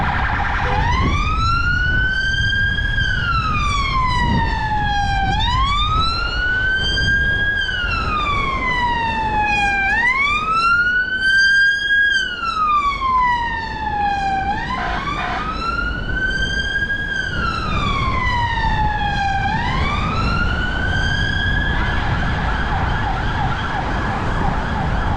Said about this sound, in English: I'm amazed she couldn't hear the sirens.